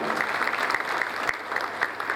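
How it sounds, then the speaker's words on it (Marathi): Audience at a Marathi matrimonial and trader-entrepreneur gathering claps steadily in welcome of the chairperson, a dense, even wash of applause lasting throughout. "सर्वांनी टाळ्या वाजवून त्यांचं स्वागत करावं"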